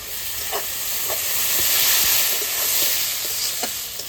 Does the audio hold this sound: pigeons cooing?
no